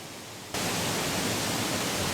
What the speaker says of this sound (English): that hissing sound you hear is a waterfall just behind this lake here